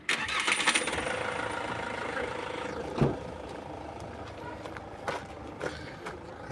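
A 2002 Nissan Primera with a 2-litre engine at a car market, cranking briefly and catching, then idling low and steady nearby with faint background noise.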